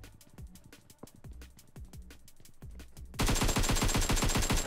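Rapid automatic rifle fire from an AK and an M4 in the mobile battle-royale game PUBG Mobile, a steady rattling burst of evenly spaced shots that swells into a louder, denser volley for the final second and a half.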